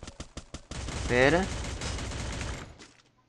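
Rapid bursts of gunfire from the video game Free Fire, a quick string of sharp shots at the start, then a player's voice talking over the game sounds.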